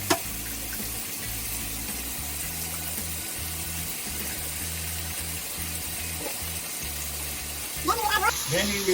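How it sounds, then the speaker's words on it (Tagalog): Water pours into a frying pan of Filipino chicken adobo, a steady hissing rush that runs throughout, ending in a brief louder clatter and splash near the finish. "Then we will add water."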